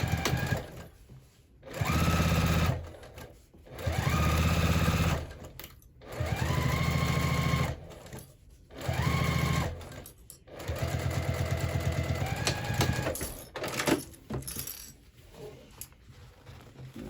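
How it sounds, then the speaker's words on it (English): A sewing machine stitches a handbag seam at a half-inch allowance in several short bursts of rapid whirring, each lasting about two seconds with brief pauses between, followed by a longer run near the end. "we'll go ahead and just sew that again at a 1/2 inch seam allowance"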